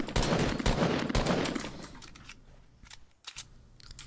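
Rapid bursts of gunfire in the video game Fortnite, loud and close for the first second and a half, then thinning into scattered shots with a short pause before a final few.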